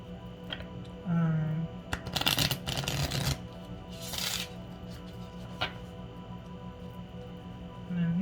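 A deck of tarot cards is handled and shuffled close by in short crisp riffles and snaps. Someone talks at times over low background noise.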